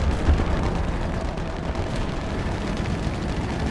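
Deep rumbling booms and artillery-like blasts land close by in the War Thunder tank battle game, a dense continuous low roar with no distinct gaps, no talking.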